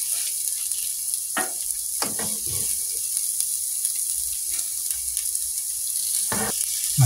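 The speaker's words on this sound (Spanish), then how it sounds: "Ahorita vamos a poner el arroz a sofreír" Rice frying in a pan in a home kitchen gives a steady, bright sizzle throughout, with a few sharp clanks and scrapes of a utensil stirring it close by.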